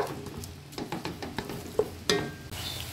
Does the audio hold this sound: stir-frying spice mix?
yes